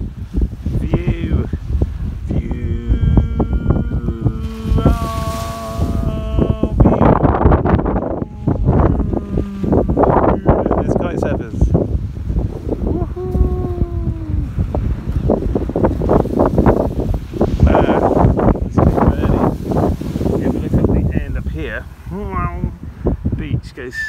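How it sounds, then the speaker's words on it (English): Strong wind buffets the microphone on the beach at the Hotel Riu Funana on Sal, Cape Verde, by the hotel sunbeds, a steady roar through the whole stretch under continuous nearby talk. "Quite windy, but one gets a little sunbed and uses it as a windbreak"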